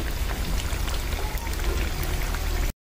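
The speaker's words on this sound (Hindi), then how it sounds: "आलू अच्छे से फ्राई हो चुका है" Potatoes fry for dum aloo in hot oil, giving a steady, dense sizzle like heavy rain that runs evenly without pause and then cuts off abruptly.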